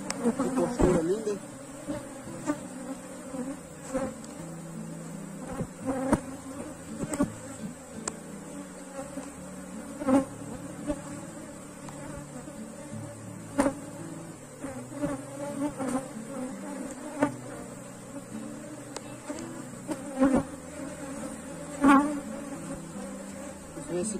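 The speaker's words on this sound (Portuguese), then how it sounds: "Se consegue ver a abelha rainha." Honey bees buzz around an opened beehive frame, a dense, steady close-up hum with a few louder passes of individual bees and quiet handling noises.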